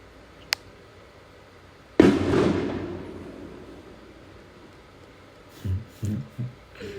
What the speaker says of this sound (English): A firework or a boom boom.